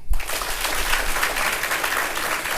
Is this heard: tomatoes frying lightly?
no